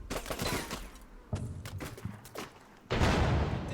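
Rocket explosions and gunfire in a combat video game, with several sharp booms and a rattle of shots ending in a loud sustained blast.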